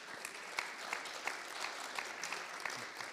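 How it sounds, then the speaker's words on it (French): A room of people applauds a man at an electromobility project launch, a steady, moderately loud patter of many hands clapping with a few sharper claps standing out at an even pace. "Je propose qu'on applaudisse Monsieur Leclerc."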